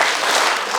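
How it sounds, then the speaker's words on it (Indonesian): Audience applause at an Indonesian stand-up comedy show in Tanjung, South Kalimantan, a dense, steady burst of many hands clapping for under a second with no voices standing out. "tepuk tangan sekali lagi."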